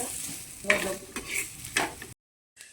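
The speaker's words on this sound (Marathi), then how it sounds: "थोडं टाकते आता हलवून घेते पण काळा नाही" Onion masala fries in a pan while being stirred, giving a soft sizzle broken by several scraping strokes of a spoon against the metal, close and fairly quiet, then a brief silence and a last faint scrape.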